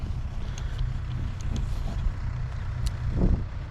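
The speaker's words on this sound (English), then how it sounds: "they can hear the tractors running" Farm tractors drone steadily at a moderate distance near cattle, low and continuous, with faint clanks and a swell of noise toward the end.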